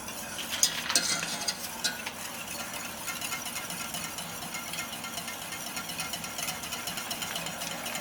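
A whisk stirs a milk mixture in a bowl for a keto zucchini slice, giving a steady, soft swishing and light tapping that carries on without a break, a little busier at the start.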